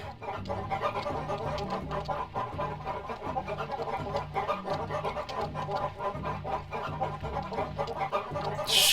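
Game-audio chickens from Baten Kaitos cluck repeatedly over steady background music, with a busy, continuous texture and a sharp noise burst at the very end, no voices present.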